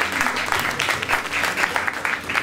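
A small audience claps steadily at a live club gig, a dense, even patter of hands lasting a couple of seconds without a break.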